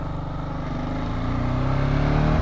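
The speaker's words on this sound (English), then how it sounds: "I just love this bike because it has such a farty quality to it, the exhaust on it." A close motorcycle engine drones steadily, its exhaust note rising gradually as the bike speeds up, with no voices.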